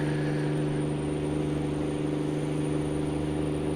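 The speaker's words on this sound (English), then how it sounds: "Love the sound of this DD60 though." A Detroit DD60 truck engine in American Truck Simulator hums steadily at a constant drone, close and continuous, with no one speaking over it.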